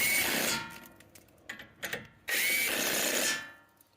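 An impact wrench tightens brake caliper bracket bolts on a 2019 Chrysler Pacifica: two loud, close whirring bursts with brief rattling clicks between them, no talking.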